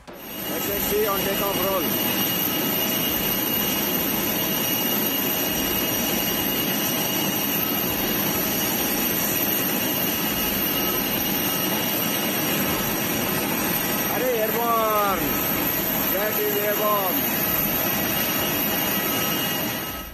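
Jet Airways jet airliner on a test flight, its engines producing a loud, steady roar throughout, with faint voices briefly audible in the background.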